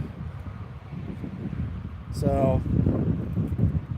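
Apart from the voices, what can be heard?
wind blowing into the microphone outdoors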